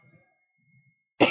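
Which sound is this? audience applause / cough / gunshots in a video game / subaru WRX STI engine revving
cough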